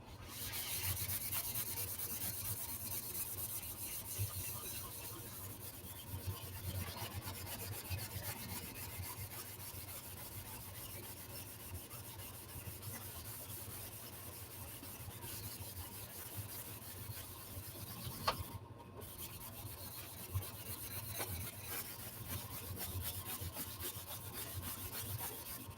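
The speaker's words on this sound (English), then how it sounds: "And then you just sand it in." Steady, quiet rubbing of sandpaper over a wood repair continues for about twenty-five seconds in a soft, even rhythm, close by with no talking.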